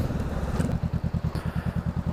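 A Honda CMX 500 Rebel motorcycle idles close by, its engine thumping in a steady, even low pulse that stays loud and regular throughout.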